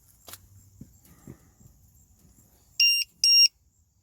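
Beeper on an FT Mini Scout model plane sounds two short, loud electronic beeps in quick succession near the end, following a few quiet handling knocks.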